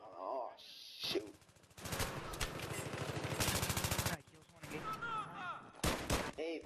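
Rapid bursts of automatic gunfire rattle through a Battlefield 3 match on the Metro map, with long sustained volleys broken by short pauses and a few single shots near the end.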